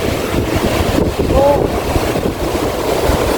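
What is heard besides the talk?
strong wind and waves at the sea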